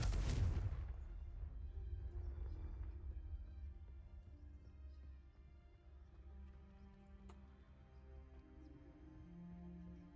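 A Confringo fire spell goes off in Hogwarts Legacy as a sharp, loud blast that rolls into a fading rumble, followed by a low ambient game hum.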